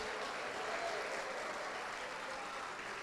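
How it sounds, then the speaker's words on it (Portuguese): A church congregation claps together in sustained, dense applause that holds steady at even volume throughout. "Isso, aplaude e dá glória."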